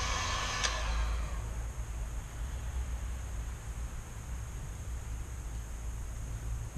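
A heat gun warms vinyl car wrap, giving a close, steady whooshing blow of air that holds at an even level throughout.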